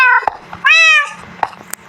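A cat in Minecraft lets out a loud, drawn-out meow, preceded by shorter mewing and followed by clicks and game sounds, close and clear.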